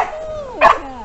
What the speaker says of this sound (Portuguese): Cachorro querendo pegar o drone.